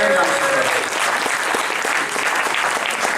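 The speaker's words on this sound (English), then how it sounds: "give her a big round of applause" A crowd claps loudly and steadily throughout, a continuous wash of applause with a brief voice at the start.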